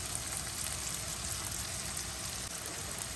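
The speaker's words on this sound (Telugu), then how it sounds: "పచ్చిమిరపకాయలు ఉల్లిపాయలు వేగుతున్నప్పుడే కొంచెం ఉప్పు" Green chillies and onions frying with turmeric and salt for a tomato curry: a steady, fine hiss and crackle of sizzling oil, close and even throughout, with no voices over it.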